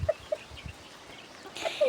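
Chicks peep in short, faint, high chirps scattered across a quiet farm setting, with a rising call near the end over low background noise.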